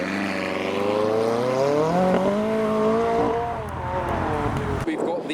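A Ferrari Roma being revved for the cameras while leaving a car show, its engine note climbing and falling in rising harmonic sweeps before cutting off abruptly, with crowd voices and street noise underneath.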